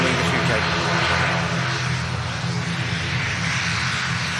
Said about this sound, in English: Air France is just spooling up.